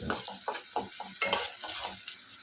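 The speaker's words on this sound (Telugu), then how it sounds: "ఆనియన్స్ మంచి కలర్లో వచ్చేంత వరకు వీటిని ఫ్రై చేసుకోవాలి" Sliced onions frying with turmeric in a pan for a bhindi curry, a close sizzle broken by a run of scraping stirs at a steady rhythm, with no voices.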